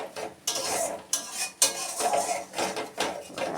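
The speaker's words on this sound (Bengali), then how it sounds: "এবার এটাকে ভালো করে কষিয়ে নেব" A spoon scrapes and clatters against a pan while a tomato-ginger paste is stirred and sautéed, a quick uneven rhythm of metallic knocks up close with no talking.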